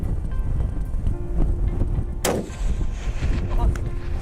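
A single rifle shot cracks sharply and loudly midway through an outdoor scene, surrounded by steady gusting wind noise on the microphone.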